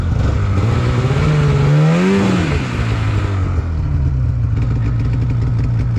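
A snowmobile engine revs with a rising and falling whine while towing a snow bike, running loud and close throughout with a steady mechanical drone beneath the changing pitch.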